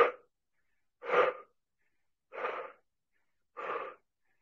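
Four slow, audible breaths at a steady pace during a morning exercise session, each a soft rush of air separated by silence, close and fairly quiet, with no talking.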